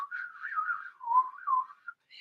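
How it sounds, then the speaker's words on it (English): A person whistles a wavering, tuneful line outdoors, alone and clear, with a few brief pauses and no talking. "whistle a little bit."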